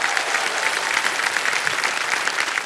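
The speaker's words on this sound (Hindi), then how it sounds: "जोरदार तालियां बज जाएं इनके लिए।" A large studio audience at a quiz-show taping applauds loudly and steadily, a dense wash of clapping that holds evenly throughout.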